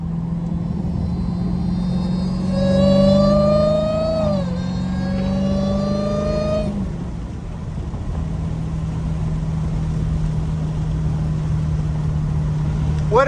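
Dodge Hellcat engine revs hard while driving, rising pitch climbing then dropping around a gear change, followed by a steady loud drone as the car keeps moving.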